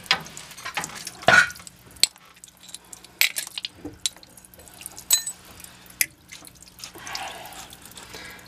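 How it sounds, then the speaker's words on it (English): Water drains from a Bell and Gossett boiler pump during motor removal, giving scattered close drips and small splashes with intermittent metallic handling clicks and pauses between them. "The water's coming out already."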